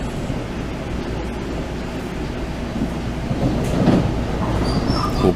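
A Montreal commuter train on the Deux-Montagnes line rumbles along from inside the car, a continuous low rolling drone with faint rattles and a brief swell in loudness near the end.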